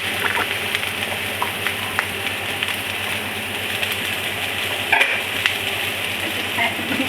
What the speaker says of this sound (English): So we start to add baby corn. Add them all together. And we add string beans.